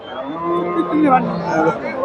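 A cow at a cattle market lets out one close, drawn-out, low moo lasting about two seconds, with market voices faintly behind it.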